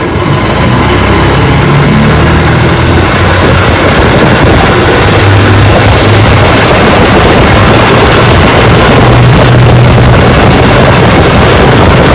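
An Evinrude Golden Jubilee outboard boat motor runs steadily on a test run, a loud, continuous engine drone with low rumble and no pauses.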